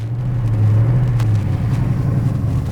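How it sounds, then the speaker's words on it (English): Big-block exhaust of a 1966 Chevrolet Chevelle SS396 with headers, points ignition and a 4-speed, heard from inside while driving: a steady, loud, low rumbling hum with no talk over it. "Listen to that exhaust just hum."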